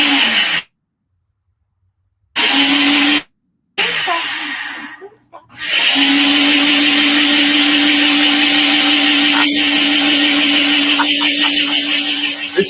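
A blender whirs loudly and steadily for several seconds, frothing a drink in a morning TV studio, after brief dropouts and muffled handling at the start.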